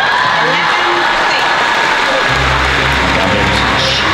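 A large arena crowd at a world table tennis championship cheers and applauds in a constant, loud roar, with a low rumble swelling partway through.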